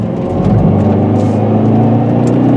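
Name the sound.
Hyundai Veloster N car driving on curvy roads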